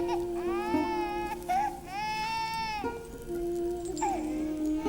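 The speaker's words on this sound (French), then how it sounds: "Pourquoi n'a-t-il pas cessé de pleurer?" An infant crying in a French-dubbed historical drama, with loud, close, wavering wails in several bursts over music.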